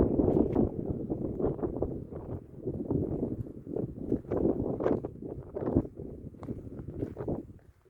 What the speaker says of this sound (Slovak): Fúka vietor.